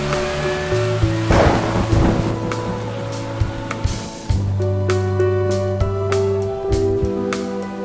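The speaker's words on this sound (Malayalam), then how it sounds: "മഴ തീരുമെന്ന് തോന്നുന്നില്ല നിത്യ" Heavy rain pours steadily over a rolling rumble of thunder, with a loud crack near the start, while sustained music tones play underneath throughout.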